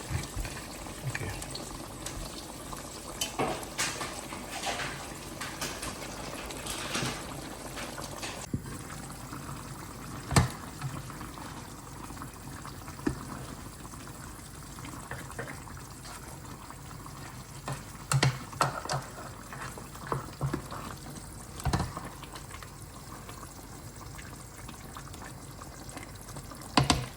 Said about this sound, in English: we're going to cook the chicken in slow flame, at least for about 20 to 25 minutes